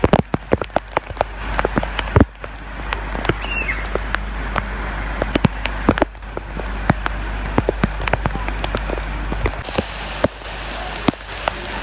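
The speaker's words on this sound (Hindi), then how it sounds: "आप ये देख रहे हो कितनी ज़ोर से बारिश हो रही है" Heavy rain pours steadily on a surface, with dense drops and sharp splashes throughout and no talking.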